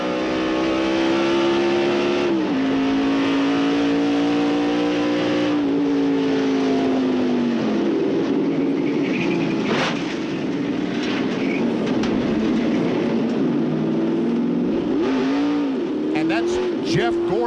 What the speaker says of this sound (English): And now Morgan Shepherd's in car. Okay, just riding along, and all of a sudden things are going to happen in front of him